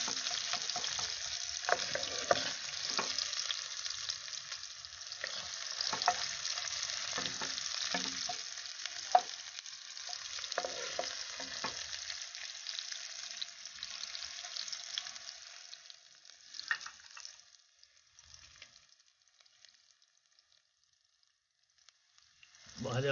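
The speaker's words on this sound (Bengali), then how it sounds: "সিম করে পেঁয়াজটাকে হালকা করে ভেজে নেব ব্রাউন কালারের" Onion slices frying gently on a low flame in a pan, a steady soft sizzle with occasional stirring scrapes that fades out toward the end.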